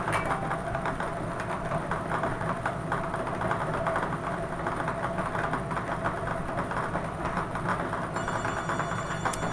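A telephone rings repeatedly during a televised bingo game, a continuous electronic trill over a steady background hum with no talk.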